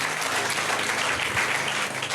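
A church congregation claps together in a dense, continuous burst of applause that fills the room evenly from start to finish.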